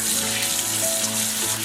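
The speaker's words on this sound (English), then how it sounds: "then just rinse your hands in some warm water." Warm tap water runs steadily over rinsing hands at a sink, a continuous close splashing flow that holds level for the whole stretch with no talking.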